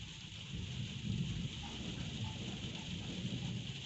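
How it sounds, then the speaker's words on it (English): Heavy rain of an intense thunderstorm hisses steadily and fairly faint, with a low rumble of thunder swelling briefly in the middle. "That's thunder, guys."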